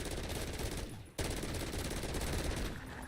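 A weapon in the video game MW3 Zombies fires sustained automatic bursts: dense, rapid gunfire with a brief break near the middle before the firing resumes.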